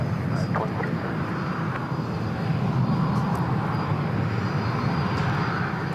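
Airliner engines at San Francisco International Airport, a loud, steady broadband roar that stays constant throughout, heard from a fair distance with faint radio chatter underneath.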